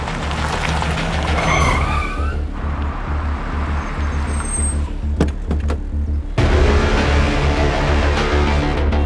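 A car skids to a stop in a crime drama scene, its loud tire screech rising over rumbling engine and road noise, followed by a thud and a sharp burst of noise before the engine hum carries on close by.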